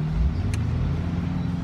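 A Subaru rated at 550 horsepower revs hard off-road, its engine droning low and steady right up close, with a short high whine mid-way through.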